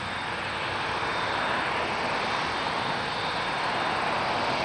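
An Air Canada airliner takes off on runway 23 at Toronto Pearson, a steady, loud broadband engine roar that holds evenly throughout without fading.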